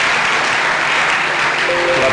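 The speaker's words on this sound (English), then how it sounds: "Clap for yourself." Sustained crowd applause at a motivational seminar, a steady wash of many hands clapping at close range, loud and even throughout.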